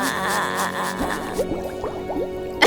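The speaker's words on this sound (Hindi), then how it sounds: "नहीं बंटी, इतना सारा पानी नहीं।" Water pours into a toy baby bath in a short liquid burst, followed by several small drips and splashes, close and moderately loud, with no talking.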